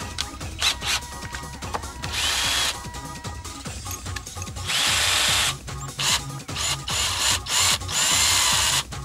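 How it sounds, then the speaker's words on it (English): Power drill grinding a bit against the edge of metal jacket snaps, in repeated whirring bursts of a few seconds each, close and loud, separated by short pauses and small clicks. "You literally just use the drill bit, it knocks that edge off and you can pull them apart."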